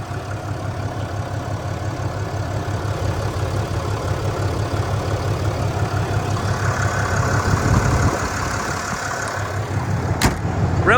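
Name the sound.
2021 Ram 2500 Cummins diesel engine idling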